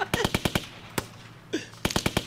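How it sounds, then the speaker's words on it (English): A music beat built from gunshot samples, sharp cracking shots landing in rapid rhythmic clusters with brief gaps between bursts, loud and punchy. "gunshots on the beat."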